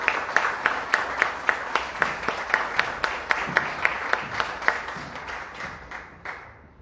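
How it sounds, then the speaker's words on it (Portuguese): A church congregation claps in a quick regular rhythm, loud sharp claps that soften and fade away toward the end. "Glorifique a Teu Deus, igreja, com a salva de palmas,"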